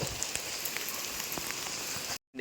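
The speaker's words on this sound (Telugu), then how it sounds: "మా ఊర్లో సడన్గా ఎండతో కూడిన వర్షం పడింది" Sudden rain pattering steadily on surfaces during sunshine, dense and continuous near at hand, cutting off abruptly at the very end.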